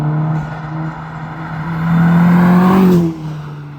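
A VW Caddy GTI van with a TFSI engine accelerates hard, its droning engine note climbing in pitch and loudness before easing off, close and alone with no talk.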